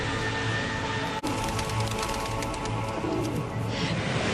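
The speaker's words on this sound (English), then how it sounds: "And now it's become the city's favourite hangout for pigeons." Pigeons gathered at an old chariot racing track in Istanbul coo softly amid a busy, hissy outdoor ambience, their low repeated calls blending into the crowd and city noise.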